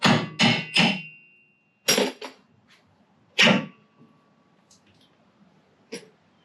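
A hammer tapping a tie rod end off a car during a front suspension teardown: several sharp metallic knocks in quick bursts, then sparse single taps, close up in a quiet space.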